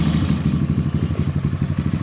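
An Xmotos 250cc dirt bike engine idles with a fan-boosted air intake, a loud, close, steady rapid chugging pulse with rattling clatter and no talk.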